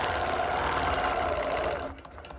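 A sewing machine stitches steadily along a vertical quilting line, a close, even mechanical hum with rapid needle rhythm that carries for about two seconds before stopping.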